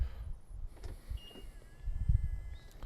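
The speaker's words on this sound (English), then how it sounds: "So mirror goes up, sunroof goes down." Electric motors in a BMW F3x/F8x hum as a side mirror folds and the sunroof moves, a low whirring drone close by with a few soft clicks and thumps inside the car, no talking.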